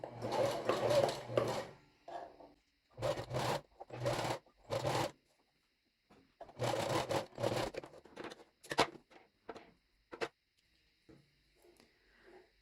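Lace is backstitched on a sewing machine while assembling a racerback bra, in several short, close bursts of rapid mechanical stitching separated by pauses, followed by lighter fabric handling sounds.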